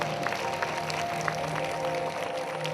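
A crowd at a Ghaghra prayer meeting on its second day claps loudly for God: a steady, dense wash of applause that holds at an even level throughout, with a faint tonal hum beneath.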